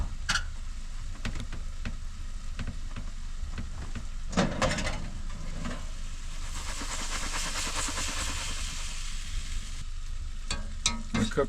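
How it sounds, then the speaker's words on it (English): Potatoes stirred in a hot pan for a potato spinach stew, a steady sizzle and hiss with scraping stir strokes and a few sharp clinks, heard alone without talk. "We're going to stir that up like this."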